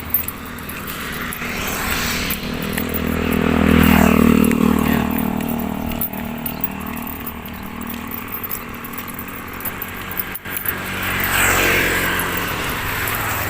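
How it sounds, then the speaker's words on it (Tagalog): Traditional Philippine motor tricycles pass along a village road beside rice fields, their engines swelling from a distant buzz to a close, loud drone and fading again, with a second vehicle rising near the end. "Yan yung mga tricycle dito sa atin. Yung mga traditional din ng mga tricycle."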